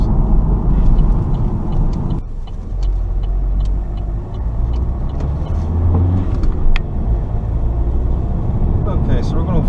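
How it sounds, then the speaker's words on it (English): A 2011 Vauxhall Insignia SRi driven along a bumpy back road, loud low road rumble and engine drone inside the cabin with scattered knocks and rattles from the suspension as it rides over the uneven surface. "we're going over a few bumpy roads at the moment"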